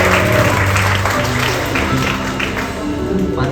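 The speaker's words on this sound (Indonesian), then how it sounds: "Beri tepuk tangan kepada kaum wanita" An audience at a Christmas prayer gathering applauds the women, a dense, even wash of clapping with a low hum of voices beneath, continuous throughout.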